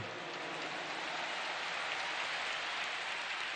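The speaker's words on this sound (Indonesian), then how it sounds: "Tepuk tangan buat semua yang hadir di sini." A large crowd at a closing campaign rally in a stadium applauds, a dense, even wash of clapping heard from a distance that holds steady without pause.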